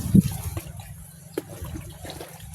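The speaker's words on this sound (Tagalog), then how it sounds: "nagpapatubig po sila ngayon." Water pours and trickles while vegetable plants are watered in a garden, a gentle uneven flow with a few splashy bursts, fairly close.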